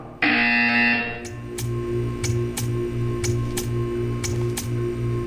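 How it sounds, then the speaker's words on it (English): In the video game Portal 2, a steady electronic tone cuts off and gives way to a repeating buzzer, sounding in regular pulses about twice a second over a low hum. "You will hear a buzzer."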